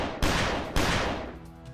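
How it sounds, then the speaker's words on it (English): Two sharp, loud gunshots in the visual novel game Piofiore: Fated Memories, each a sudden blast with a long ringing decay, the second following about half a second after the first. "Gunshots resounded through the air."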